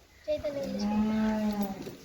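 A single cow in a cowshed housing about fifty dairy cows gives one long, resonant moo lasting nearly two seconds, close by, with a low background hum and no speech.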